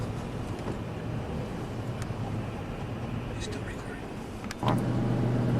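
Truck engine rumbling on a road, steady and moderately close, with a louder surge near the end as it moves off, heard from inside a car.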